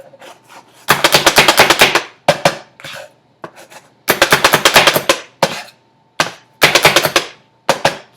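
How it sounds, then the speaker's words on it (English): A Pampered Chef food chopper chops garlic scapes, heard as several loud bursts of rapid mechanical clatter separated by short pauses, with fainter taps between the bursts. "you can see just how quick and easy it is to chop something up versus the other method of using a knife"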